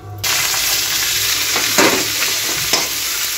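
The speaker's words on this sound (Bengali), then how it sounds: "এবার শাকটা তুলে দেবো" Boiled bottle gourd greens hit hot oil with cumin and dried chilli in a pan, bursting into a loud, steady sizzle with a few sharper spits and stirring scrapes.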